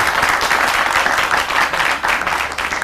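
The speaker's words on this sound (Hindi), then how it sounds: "इस पे तालियां होनी चाहिए यार।" Studio audience applause on a morning talk show, a dense burst of clapping filling nearly three seconds, loud and close, tapering slightly at the end.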